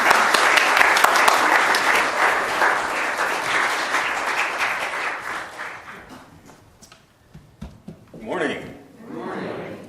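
A church congregation applauds to welcome a speaker to the pulpit, with dense sustained clapping that fades out over several seconds, followed by a few scattered voices and murmurs.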